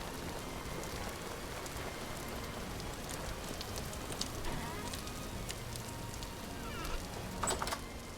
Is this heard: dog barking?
no